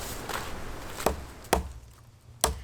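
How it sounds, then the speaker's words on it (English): A Hardcore Hammers Super Naturalist hatchet chops wood in four sharp, separate strikes spaced unevenly, each a close, loud crack over a low background hum, with no talking. "really isn't truly intended for heavy-duty chopping like this"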